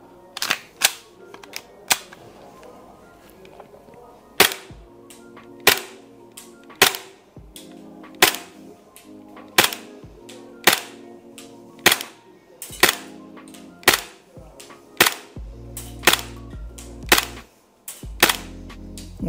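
A Poseidon FMG9 airsoft SMG firing ordinary BBs from a short WE magazine, sharp snapping shots in an uneven series of single and paired cracks with brief mechanical rattles between, close and loud.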